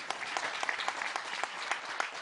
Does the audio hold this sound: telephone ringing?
no